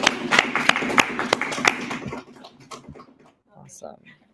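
A few sharp, distinct claps for a student team at a university pitch event ring out over a voice, then fade into quieter talk and shuffling.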